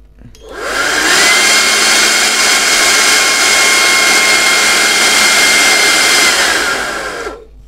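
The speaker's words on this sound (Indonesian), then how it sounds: "Saya akan coba tiup pakai blower keong ini." A centrifugal snail-type blower blows air at a digital GM816 anemometer, a loud steady whoosh that spins up, holds for several seconds at constant pitch, then winds down, heard alone.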